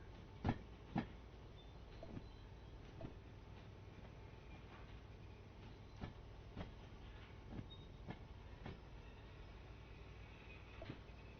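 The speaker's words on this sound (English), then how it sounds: "Okay, so there is our train." A train runs in the Derail Valley simulator game with a low continuous rumble and evenly spaced clicks of wheels over rail joints, faint and distant, with no voices.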